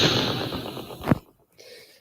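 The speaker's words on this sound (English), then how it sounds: "So I will play an impulse response." A room impulse response plays back, a loud broadband burst that decays over about a second and ends in a sharp final crack, then near silence and a faint hiss.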